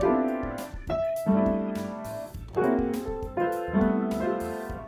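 Piano played haltingly, with clumsy clashing chords, uneven starts and stops, close and fairly loud, no voices.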